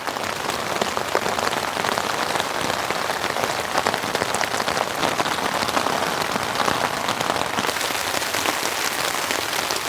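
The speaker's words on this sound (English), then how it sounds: "lie down, warm up, and listen to the rain for a while" Steady, dense patter of heavy rain drumming on a tent close by during a winter storm, continuous and unbroken throughout.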